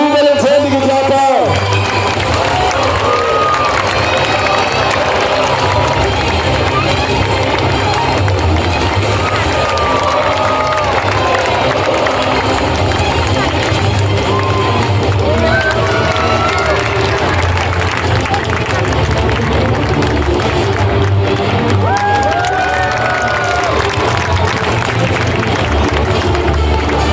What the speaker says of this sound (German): Und unter Jubel und händige Klapper.